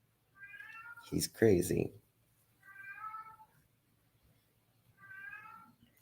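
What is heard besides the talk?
pet cat meowing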